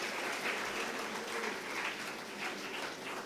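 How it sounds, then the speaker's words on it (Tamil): Steady applause from an audience fills the hall at an annual day event, a dense, even clapping at moderate distance throughout with no talk over it. "அவங்களுக்கு ஒரு அரங்கம் நிறைந்த கைத்தட்டல் தான்."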